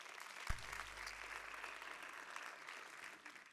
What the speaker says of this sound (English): let's give that a real round of applause.